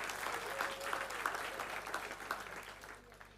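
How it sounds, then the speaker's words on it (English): Soft, distant-sounding clapping from an audience at a book launch, greeting the Molobi family, with a faint tone and a few sharper claps rising over a quiet room before fading near the end. "Let's give a big round of applause,"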